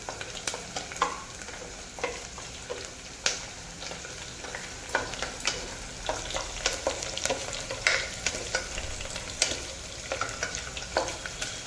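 Fenugreek dal frying in a pan is stirred with a spoon, bringing a quiet continuous sizzle broken by frequent irregular scrapes and clinks of the utensil against the pan.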